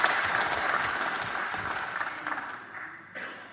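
A room full of participants at an HKBP church finance training session clapping together, a steady dense patter that holds for a few seconds before fading near the end.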